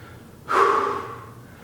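A single deep, audible inhalation during a yoga practice, a close breathy rush that swells quickly and then slowly fades.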